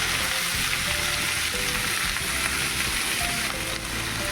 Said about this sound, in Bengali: তার মধ্যে দিয়ে দিচ্ছি ঝাপাত করে ঢেলে চাল কুমড়ো কাটাটাকে